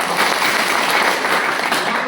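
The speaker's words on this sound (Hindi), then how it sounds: "तो यहां पर दोस्तों कंपाउंडिंग के लिए जोरदार ताली हो जाता है" A seminar audience claps together, a dense, even roar of hands that stays loud and steady from start to finish without pause.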